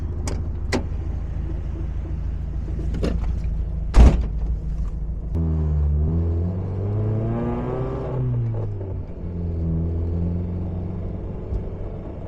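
A pink Mazda Miata floored from low speed, its engine note climbing through rising harmonics into a strong, sustained rev after a few sharp clicks and a thump, steady road rumble underneath with no talking.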